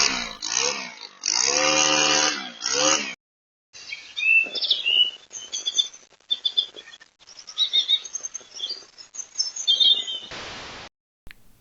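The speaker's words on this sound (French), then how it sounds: "les oiseaux qu'on entend en fond sonore" Small birds chirp and tweet outdoors in intermittent, fairly faint bursts, following an earlier stretch of loud motor noise from a brush cutter running nearby.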